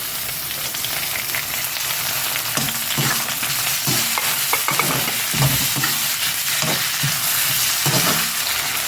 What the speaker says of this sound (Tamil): வெங்காயம் இந்த மாதிரி நல்லா செவக்க வணக்கிடுங்க